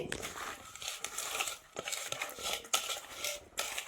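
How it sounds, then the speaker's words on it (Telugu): Quiet scraping, clinking and wet crinkling as bitter gourd pakoda batter is stirred and mixed in a bowl. The sounds are close and irregular, with soft rhythmic strokes. "ఇప్పుడు దీన్ని ఒకసారి కలుపుకుందామండి. అన్నీ పైన ఇలా కలుపుకోండి"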